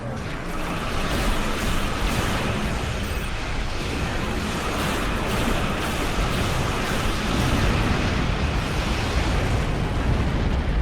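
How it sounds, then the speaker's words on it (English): Borg plasma weapons in a space combat video game, a dense continuous roar of firing and explosions that stays loud and steady throughout. "I'm using Borg plasma weapons"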